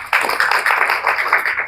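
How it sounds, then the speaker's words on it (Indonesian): Applause from a church congregation at an Indonesian worship service, a brief burst of many hands clapping, fairly loud and dense throughout. "Kasih tepuk tangan deh, Pak."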